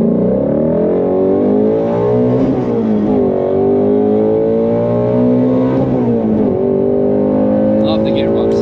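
A Shelby GT350R races around the Nürburgring, its engine loud and steady with rising and falling revs through gear changes, a continuous close-up onboard roar.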